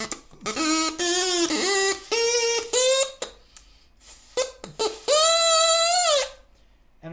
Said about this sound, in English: I'm going to cut the straw shorter while I'm playing it.